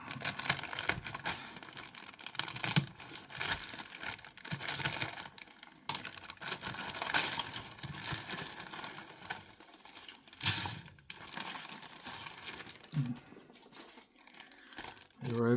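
An oversized plastic bag from an Airfix 1/72 Phantom FG.1/FGR.2 model kit crinkles and rustles close by in irregular bursts of handling, continuing for a long stretch with brief louder crackles.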